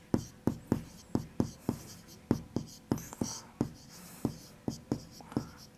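Chalk or pen writing a table for a class 6 algebra maths lesson, a regular series of short sharp taps and strokes, close and clear, with no talk.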